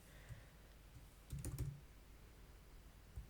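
Keys clatter on a computer keyboard during form data entry, with a short burst of several quick clicks near the middle and scattered taps elsewhere, fairly quiet and close.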